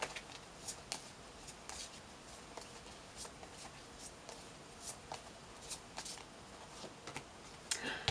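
Tarot cards being handled and drawn from a deck, soft papery shuffles and slides with several sharp flicks and snaps spread across the stretch, close and fairly quiet.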